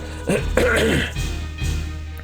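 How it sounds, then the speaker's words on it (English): A person clears their throat in a few rough, guttural bursts, close and fairly loud, with no other speech around it. "I'm gonna have to clear my throat a little bit."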